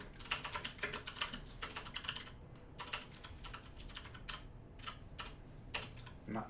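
Rapid clattering keystrokes on a computer keyboard while editing C++ code in Emacs, steady bursts of clicks with a few brief pauses, close and fairly quiet with no voices.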